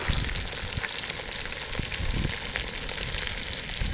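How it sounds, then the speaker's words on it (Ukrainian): Onion and meat frying in a pan, a loud, continuous dense sizzle with occasional pops and scrapes, heard close up from start to finish. "Покидаємо зараз цибулю. обжарим цибулю."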